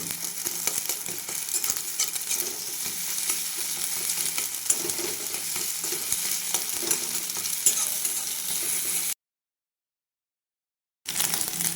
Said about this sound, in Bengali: গ্যাসের ফ্লেমটা হাই রাখতে হবে আর এরকমভাবে ডিমটা কুচো করে নিতে হবে